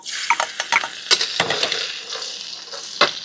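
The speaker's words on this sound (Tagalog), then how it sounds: "Magigisa po tayo ng bawang," Garlic and chili sautéing in a pan for a stir-fry with Thai herbs, a steady sizzle broken by repeated sharp scraping and clicking stirs, close and fairly loud, with no talking.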